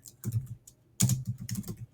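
Computer keyboard typing in two bursts of rapid, close clicks separated by a short pause, with no talk.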